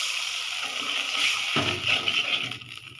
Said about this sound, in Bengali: এতে খানি একটু পানি দিয়ে দিব।